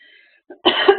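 A single short, close cough, loud and abrupt, preceded by a faint tone and a brief intake of breath.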